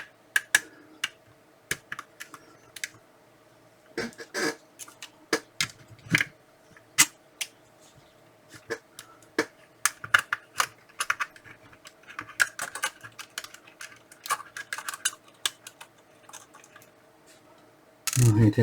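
A mechanical keyboard's switches are pressed in scattered bursts, crisp close clicks and clacks sometimes coming singly and sometimes in quick flurries against a quiet background.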